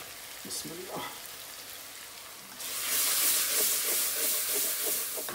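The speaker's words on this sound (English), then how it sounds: "The fragrance just hits you as soon as that hits the oil, the spices" Ground coriander, curry powder and turmeric hit hot oil for restaurant-style aloo gobi, bursting into a loud, steady sizzle and hiss that swells partway through, with faint talk and stirring beforehand.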